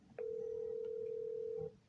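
A Samsung Galaxy Note 20 placing a call after network unlocking, giving one steady ringback tone of about a second and a half over faint room noise.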